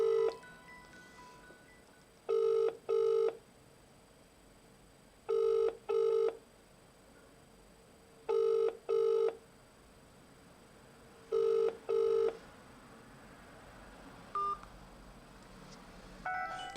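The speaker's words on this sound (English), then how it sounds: "I decided to phone their headquarters in Egypt." A telephone number is dialed to a headquarters in Egypt, with four clear pairs of quick keypad tones spaced a few seconds apart over a faint line hiss, followed by a brief beep near the end.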